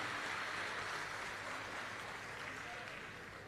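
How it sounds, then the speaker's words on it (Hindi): A large crowd at a Shiv Mahapuran religious discourse gathering in Sangvi, Pune claps continuously, giving a dense, steady wash of applause that fades slightly toward the end. "एक बार यजमान परिवार के लिए जोरदार ताली बजाकर स्वागत वंदन अभिनंदन"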